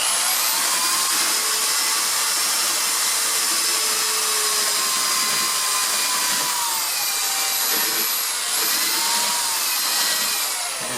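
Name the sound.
drill sanding foam rubber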